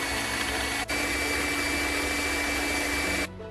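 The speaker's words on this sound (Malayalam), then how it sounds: "ഞാനൊരു ബീറ്റർ യൂസ് ചെയ്തിട്ടാണ് ഇവിടെ ബീറ്റ് ചെയ്യുന്നത്." An electric beater whips cream for cappuccino with a loud, steady motor whine, close up, briefly dipping near the start before running on and cutting off just before the end, with no talk.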